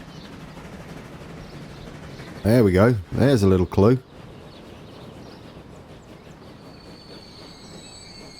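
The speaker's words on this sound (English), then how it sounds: "We have a train coming in." A train pulls into a station in the video game Transport Fever, with steady rail rumble and wheel squeal while someone talks over it midway.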